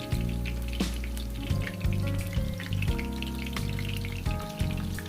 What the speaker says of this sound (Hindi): लो फ्लेम पे इसको फ्राई करना है